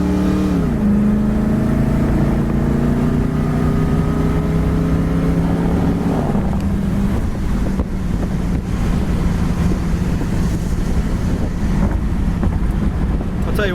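A 1967 Pontiac Firebird convertible drives with its engine roaring and rising in pitch, then drops into second gear as the revs fall and climb again, all under heavy wind rush.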